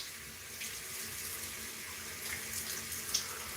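Cold water running steadily from a bathroom tap into a sink for shaving, a soft continuous hiss at moderate distance with no talk over it.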